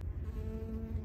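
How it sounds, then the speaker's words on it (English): A bee buzzing close by outdoors near the Grand Canyon, a steady, fairly loud droning hum held for about a second with no talk over it. "Oh, it's a bee by me."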